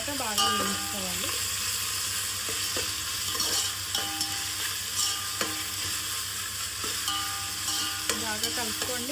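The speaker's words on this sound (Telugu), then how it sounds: "అల్లం వెల్లుల్లిపాయ పేస్ట్ అనేది పచ్చివాసన పోయేదాకా బాగా వేయించుకోవాలి" Ginger garlic paste fries in a pan for Telangana-style bagara rice, a steady loud sizzle with spatula scrapes and stirring clinks throughout, no voices.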